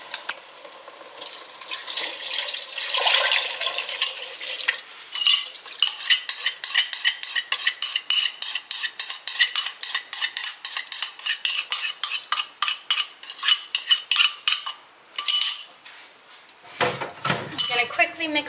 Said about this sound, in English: I'm gonna pour in my Hong Shao sauce.